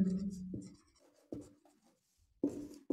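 Writing on a board during a history lecture: a few soft, scattered strokes and taps, faint and irregular, separated by quiet gaps, with no talking over them.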